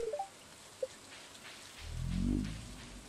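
Rain from the video game Stardew Valley, a soft, steady patter at low level, then a deeper rumbling swell that builds and fades near the end, with no talking.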